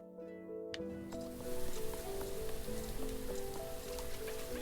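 Steady rain patters across an outdoor scene in a video game, a dense even hiss holding throughout while soft tonal game music plays underneath.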